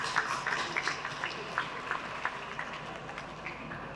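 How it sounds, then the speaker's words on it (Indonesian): Crowd clapping at a military change-of-command ceremony for Infantry Brigade 16 Wira Yudha, a steady patter of many hands heard from a distance, fairly faint and continuous over the whole stretch. "Tepuk tangannya."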